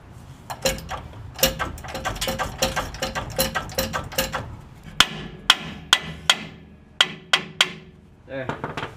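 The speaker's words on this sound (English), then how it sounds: "Now the bolts come out." Leaf spring bolts come loose from a 2011-2018 Chevy Silverado with a series of sharp metallic clanks and hammer-like taps, irregular at first and then in a steadier run of distinct strikes.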